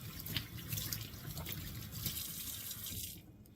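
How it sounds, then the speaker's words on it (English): Tap water runs steadily over produce being rinsed in a sink, a soft continuous splashing flow heard close but fairly quiet, stopping just before the end. "I'm just rinsing these off"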